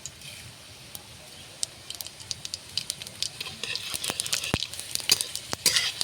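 Five-spice seeds (panch phoron) hitting hot oil in a pan with chopped green chillies, giving a steady bright sizzle with scattered crackling pops that grow busier toward the end.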